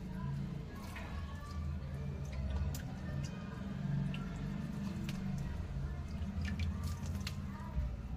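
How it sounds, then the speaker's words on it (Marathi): Faint, scattered drips and light splashes of water sprinkled by hand land on soil in an irregular patter over a low, steady background hum. "बघा हाताच्या साहाय्याने थोडं थोडं शिंपडायचं आहे, जास्ती पाणी ओतायचं नाही"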